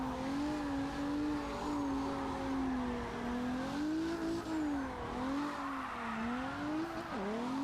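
A race car in a driving game, steered without assists, holds a steady wavering engine drone while tire squeal rides on top through long slides, loud and continuous with no talk.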